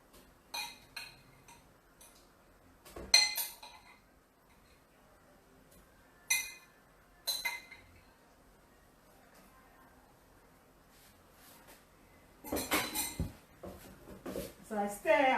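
Smoked fish and spices stirred in a cooking pot give scattered metallic clinks and scrapes of a utensil against the pot, some close and sharp, with longer clattering bursts near the end and quiet stretches between.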